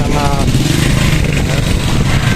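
A motorcycle engine runs steadily up close on a roadside near a highway, a loud continuous low drone with a voice talking over it.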